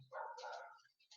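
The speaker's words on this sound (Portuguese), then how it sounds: "Ela acha que é cachorro de quintal, fica latindo na janela." A pet dog in an apartment gives one short, muffled bark at a window, a single brief yip heard faintly and alone.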